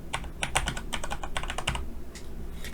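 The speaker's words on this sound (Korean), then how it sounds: "유니피케이션으로 타이핑 할게요" Fast typing on a computer keyboard while entering a style name in a Hancom Office word processor, with close, crisp, rapid key clicks in uneven bursts and a short pause before a final keystroke, and nobody speaking.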